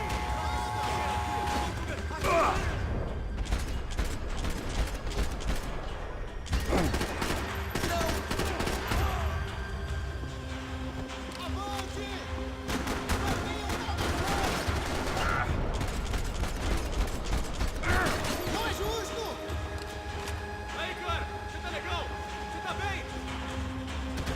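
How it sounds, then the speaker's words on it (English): Rapid gunfire from Max Payne 3 rings out in repeated bursts of shots over a continuous low rumble, loud and close, with someone speaking between and over the volleys. "Just shooting through the little hole."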